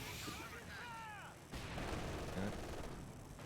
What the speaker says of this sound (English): One rocket landing directly on top of the mortar crew